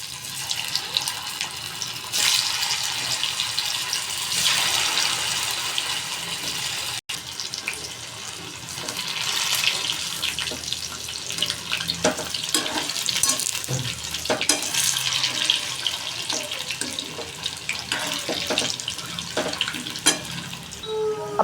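Colocasia leaf vadis deep frying in hot oil in a kadhai make a dense, continuous bubbling sizzle with scattered crackles and occasional clinks, loud and close for the whole stretch.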